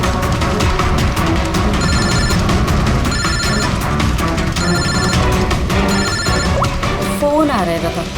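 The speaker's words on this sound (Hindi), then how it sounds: "फोन आ रहा है" A phone rings in short repeated bursts while music or busy background sound plays loudly throughout.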